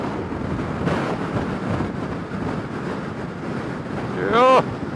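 Strong wind buffeting a rider on a Honda CRF motorcycle near Port Elizabeth, a loud, steady roaring rush against the microphone with gusty swells, and a brief voice near the end.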